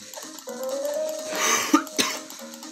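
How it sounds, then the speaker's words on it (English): A couple of short, sharp coughs in quick succession, close by, over a steady background hum. "I already told you I have a cough."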